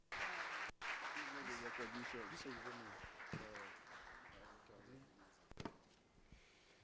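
An audience at a West Africa peace and security dialogue claps to welcome a speaker, with a burst of applause at the start that fades away while a voice talks over it.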